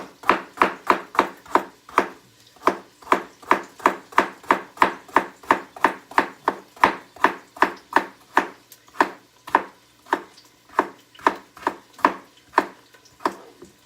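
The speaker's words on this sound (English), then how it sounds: "That's going to give me some time to cut up my carrots, my celery." A knife chops carrots and celery on a cutting board for cabbage soup, a long run of steady, crisp, evenly spaced knocks heard close up with no talk.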